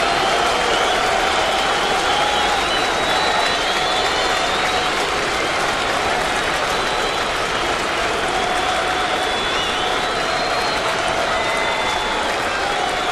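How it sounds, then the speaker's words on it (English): A crowd at a 2009 baseball game between the Yankees and the Athletics, late in the eighth inning, cheers and applauds in a steady, dense roar that stays loud and continuous throughout, with a voice faintly audible underneath. "The crowd's getting into it now."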